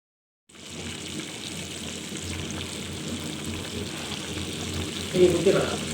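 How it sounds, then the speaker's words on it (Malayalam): Chicken pieces frying in hot oil in a small frying pan, a steady close sizzle with a brief louder crackle near the end. "ഓരോന്നോരോന്നായിട്ട് എണ്ണയിലേക്ക് ഇട്ട് കൊടുക്കാം ഞാനിവിടെ ചെറിയൊരു ഫ്രൈ പാനാണ് എടുത്തിരിക്കുന്നത്"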